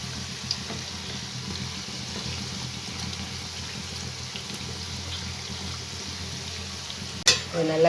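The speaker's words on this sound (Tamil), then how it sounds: "இதை நல்லா மொறுமொறுன்னு பொரிச்சு எடுத்துக்கலாம்." Maida sweet deep-frying in hot oil, a steady soft sizzle and bubbling hiss heard close, ending with a brief clatter.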